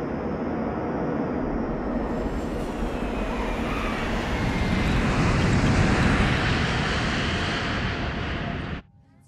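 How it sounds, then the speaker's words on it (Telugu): An airplane in flight making an emergency landing drones with a steady, loud engine roar that swells slightly midway, then cuts off abruptly near the end; no one speaks. "మన ఫ్లైట్ ని గోవాలో ఎమర్జెన్సీ ల్యాండింగ్ చేస్తున్నాం"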